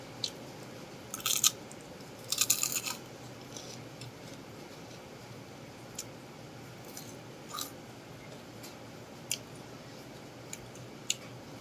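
Crunchy dried squid chewed close to the mic during a mukbang, with a few sharp crackling bites early, then sparse soft crunches and clicks over a quiet background.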